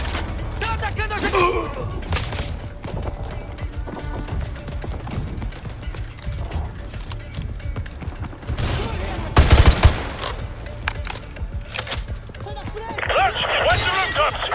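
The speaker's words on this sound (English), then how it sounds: "we're taking heavy fire from the militia here" Heavy automatic gunfire from militia fighters in Call of Duty MW2 Remastered, with sustained machine gun bursts and sharp shots layered under near-constant talk, swelling loudest around the middle and again near the end.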